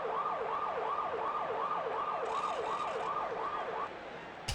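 A wailing ambulance siren in the video game Madden 64 cycles steadily up and down in repeated sweeps, loud and continuous, then cuts off near the end with a brief click.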